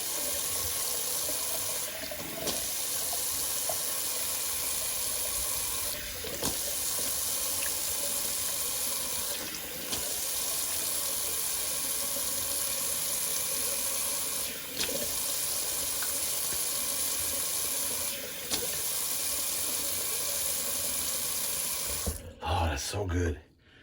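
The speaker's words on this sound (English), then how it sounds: "let me do a little cold water rinse" Cold tap water runs continuously from a faucet into a sink for a shaving rinse, a steady close splashing hiss with brief interruptions and small shifts before it stops at the end.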